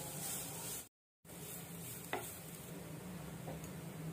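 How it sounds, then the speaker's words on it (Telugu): Grated carrot frying in a pan for a carrot-coconut jaggery laddu, a steady close sizzle with faint stirring scrapes, briefly cut to silence near the start, one sharper clink midway. "ఇందులో మనం తురిమి పెట్టుకున్న క్యారెట్ ని వేసుకుంటున్నాము. కొంచెం సేపు ఇలా వేగనివ్వాలి."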